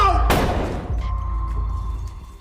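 Single gunshot in a film, a sharp loud crack followed by a decaying rumble and low hum, with faint voices in the background.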